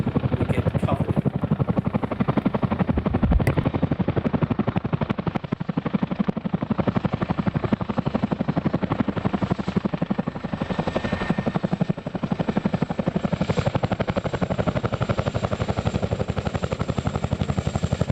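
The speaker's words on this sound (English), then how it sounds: "Helicopters running in" Military helicopters come in close over sandy ground, their rotors giving a loud, continuous, rapid thudding beat for the whole stretch, with a high engine whine on top.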